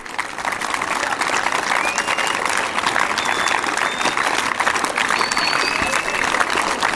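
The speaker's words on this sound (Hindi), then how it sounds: "भरपूर तालियां" Steady, loud applause from a crowd at a cadet appointment ceremony at a college, continuous clapping throughout with a voice faintly audible in the background.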